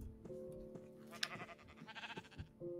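Blocky Minecraft sheep give a couple of wavering bleats among other game sounds, a brief tonal cry near the start and another toward the end, with soft clicks and a held tone in between and no voices.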